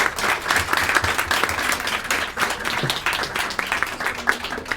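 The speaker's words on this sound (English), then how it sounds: "Let's have a round of applause for our panelists." Audience applause for the panelists at a women's religiosity and family panel, a steady round of many hands clapping that continues throughout, fairly loud and unbroken.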